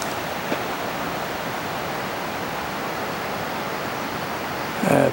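A creek flows steadily on a late-evening hike in the woods. The water makes a constant, even rush with no breaks, and a short louder sound comes near the end.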